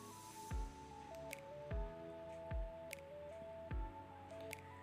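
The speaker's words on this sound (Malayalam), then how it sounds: "ഈ തക്കാളിയെല്ലാം ഒന്ന് കുക്കായി കിട്ടണം അതുവരെ ഒന്ന് മിക്സ് ചെയ്തെടുക്കാം" Tomatoes cooking down in a pan are stirred with a spoon, making soft wet squishing scrapes in a slow repeating rhythm, quiet and close, with no talk.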